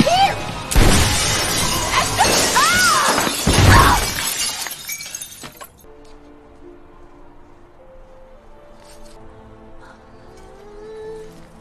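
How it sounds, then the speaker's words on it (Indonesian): A glass window smashes with a loud, sustained crash and shatter over dense noise, then the sound drops to quiet, low background tones. "Kate kemudian memecahkan kaca itu dan tubuhnya jatuh tepat mengenai Esther."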